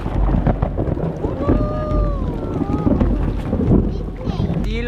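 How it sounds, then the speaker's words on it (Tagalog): Heavy rain pouring during a typhoon, a loud continuous wash of rain and wind noise, with voices calling over it. "Nabutan na kami ng malakas na ulan."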